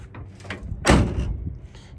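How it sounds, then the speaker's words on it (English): Door of a 1972 Chevrolet Blazer swung shut once with a single firm thud, close by and loud, set against quiet surroundings with faint background noise before and after. "Door shuts good,"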